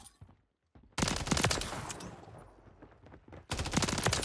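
Bursts of rapid automatic gunfire in Modern Warfare 3, two dense volleys separated by a quieter stretch, loud and close after a brief near-silent start.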